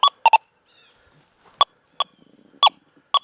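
A Garrett Gold Field Bird Dog metal detector sounds off over a U.S. nickel: about seven short, sharp chirping tones in irregular bursts, close and clear, with quiet gaps and no talking.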